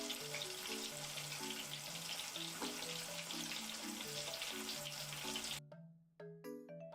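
Chicken frying, a steady hiss much like a stream of water or urine, running under background music until it cuts off near the end.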